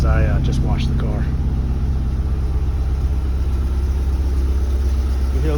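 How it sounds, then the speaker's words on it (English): A 2010 Subaru STI idles with a steady low rumble, and a slight rattle may come from a loose spring on the turbo. A voice talks over the engine early on. "You hear a little bit of rattle. That's from the spring on the turbo."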